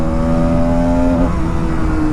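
A Bajaj Pulsar NS200 motorcycle engine drones loud and steady up close, its tone rising slightly and then dropping as the rider shifts gear partway through.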